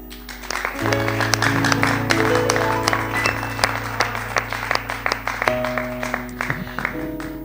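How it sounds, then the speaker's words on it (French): A church congregation applauds and cheers in a dense, steady wash of clapping for the whole stretch, with sustained instrumental tones held underneath. "Ces acclamations, c'était pour vous."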